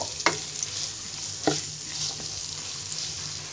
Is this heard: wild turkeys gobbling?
no